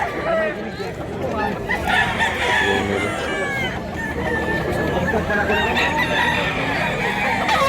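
At a Mantalungon, Cebu fowl market with many birds for sale, including black kidney and wingban roosters, several roosters crow one after another over constant clucking from hens, loud and near, with people talking throughout.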